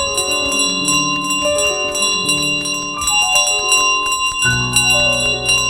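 A bell carried by the goose in Untitled Goose Game clangs repeatedly and loudly, its ringing tones overlapping into a constant, jangling wash with no pauses.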